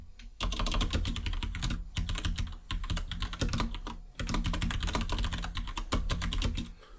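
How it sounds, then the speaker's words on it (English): Rapid, steady typing on a computer keyboard rattles close to the microphone in dense bursts of clicks, with a brief pause near the start and another midway through, and no speech. "you're going to hear a lot of keyboard clicks"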